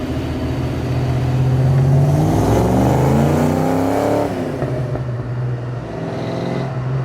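A Foxbody Mustang on open headers accelerates past outdoors, its loud, raspy engine climbing in revs before receding, followed by a lower rumble as it moves off.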